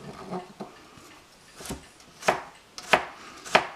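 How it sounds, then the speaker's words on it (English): A knife slices through garlic cloves on a cutting board, giving a handful of crisp, separate cuts at an uneven pace that grow sharper and louder toward the end, close up in a quiet kitchen. "what I do is I just slice it up"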